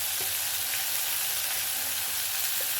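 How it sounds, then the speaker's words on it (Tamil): Mixed vegetables softening in a pan for sambar rice give off a dense, even sizzle that runs steadily close up with no voice over it. "நல்லா வதங்கட்டும் எல்லா காயும் வதங்கிட்டு இருக்கிற நேரத்தில்"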